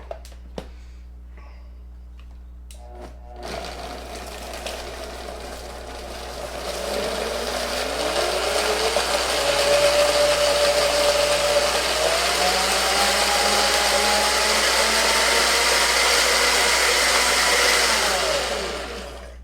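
A kitchen blender whirs steadily, processing a roasted salsa of cilantro, stems included, and mint leaves, its motor pitch climbing and wavering as the contents break down over more than fifteen seconds, loud and close, before it switches off.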